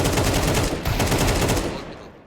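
Rapid automatic gunfire sprays in Counter-Strike 2 on the Dust2 map, a loud, dense burst of shots for about two seconds that then trails off, with no talking.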